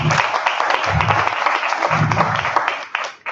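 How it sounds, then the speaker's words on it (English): A crowd applauding, dense clapping that carries on steadily, with some voices mixed in and low thumps underneath. "Can we give ourselves a clap for that?"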